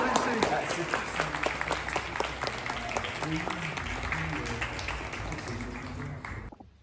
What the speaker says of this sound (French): Voilà, applaudissez, applaudissez.